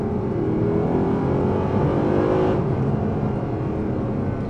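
Mercedes SLS AMG Black Series gull-wing with a double-clutch transmission pulls hard under acceleration, a loud, steady engine roar rising in pitch before a gear shift drops the tone midway, heard from inside the car.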